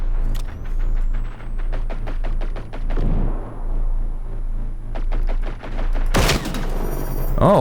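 Rapid automatic gunfire in the Generation Zero video game, several long bursts of evenly spaced shots at mid distance, separated by short pauses and capped by a louder heavy blast near the end.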